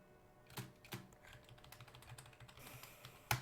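Quiet typing on a computer keyboard during coding work, with scattered key taps, a few sharper strokes, and a firmer key press at the end, close up with no talking.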